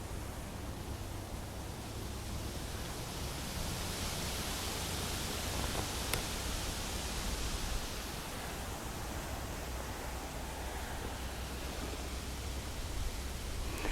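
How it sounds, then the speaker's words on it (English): Wind sweeps through autumn woodland foliage in Kent in a continuous soft rustling hiss, swelling gently at times, with no voices present. "As the wind blows, you can hear the leaves rustling."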